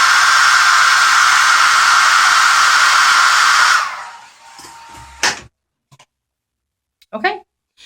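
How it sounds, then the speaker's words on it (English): A blow dryer runs loud and steady for close to four seconds as it dries fiber lash mascara, then cuts off, leaving a few faint clicks and a short burst of voice. "And I'm going to hit the blow dryer one more time."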